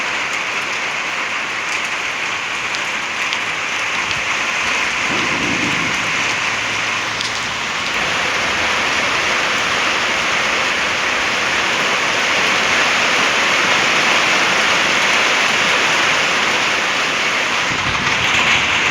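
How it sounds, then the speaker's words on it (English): Heavy rain pours steadily during a severe thunderstorm, a dense, continuous hiss filling the scene throughout; no distinct thunder cracks stand out, and the downpour swells slightly louder in the second half. "I think you'll have real heavy rain."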